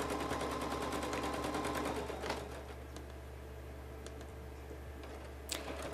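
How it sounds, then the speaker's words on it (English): A sewing machine with a ruler foot quilts diagonal lines on a pinwheel quilt, a steady rapid needle chatter that runs strongly for two seconds, then continues more softly with a brief sharp click near the end. "Now I'm quilting the diagonal lines back the opposite direction."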